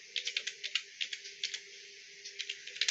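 A name is typed on a computer keyboard: a quick, light run of close key clicks in uneven bursts, with a short pause in the middle, over a faint steady hum.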